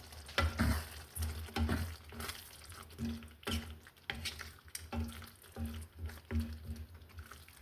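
Already fried capsicum and onion go into a pan for dhaba-style paneer butter masala, and a close sizzle follows, with scraping and stirring in uneven bursts.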